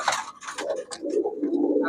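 Pigeon cooing at a Bangladeshi pigeon dealer's shop, low throaty coos repeating steadily through the clip, close and moderately loud, with some brighter bird chatter near the start.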